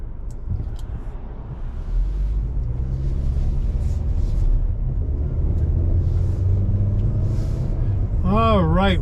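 A 2022 Chevrolet Trax LT AWD driving on the road, heard as a steady low cabin rumble of engine and tyres from inside, with a brief electronic chime near the end.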